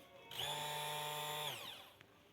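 A Gorenje HBC804QW blender motor whirs with a high, steady whine for about a second, then winds down quickly. It is fairly quiet and heard alone.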